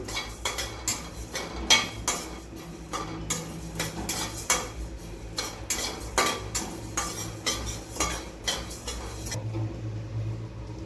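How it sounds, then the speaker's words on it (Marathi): Coriander seeds being dry roasted in a pan, stirred constantly: a rapid run of rattling scrapes and metallic clinks of a spoon against the pan, close and busy, ending in a quieter tail. "त्यात आता आपण हे धने आरा आरा असे भाजून घेणार आहे"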